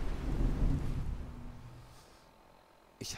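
Rain and a low thunder rumble in the video game Fallout 4, loud at the start and fading away, with a sharp burst near the end; a voice talks over part of it.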